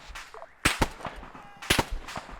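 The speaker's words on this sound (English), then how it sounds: "Let's try and see if we can take some pot shots at that radar position" Rifle shots in Arma 3 are fired toward a distant radar position: several sharp cracks in two close pairs, loud and near, with faint echoing tails and quiet ambient noise between.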